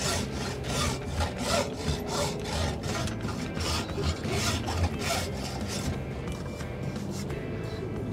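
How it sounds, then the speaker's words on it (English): A hacksaw cuts through plastic pipe in quick, even back-and-forth strokes, about a dozen rasping passes heard up close with no talking. "Got my hacksaw, and I'm just going to go right up against the pipe."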